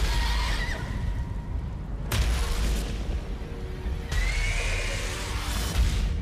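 A horse whinnies amid the loud, dense soundscape of the game Ghost of Tsushima, with booming rumbles and rushing noise throughout.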